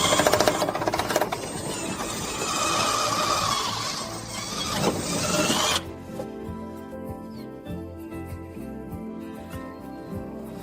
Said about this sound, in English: we need to drill it slightly angled to the left